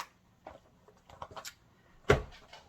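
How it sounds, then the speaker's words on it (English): A chicken coop door is pushed shut at dusk, landing as one loud close thump near the end, after a few soft scattered knocks and rustles. "And shut the door."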